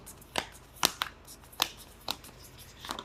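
Tarot cards are shuffled by hand in a series of crisp, quick riffling snaps, several bursts spaced about half a second apart, close and quiet with no talking.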